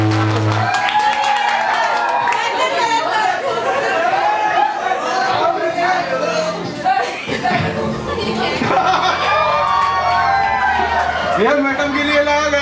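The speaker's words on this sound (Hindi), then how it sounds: "जोरदार ताली के साथ स्वागत" Loud applause and cheering from a crowd at a school annual function as a performer is welcomed, sustained clapping mixed with music, chatter and laughter.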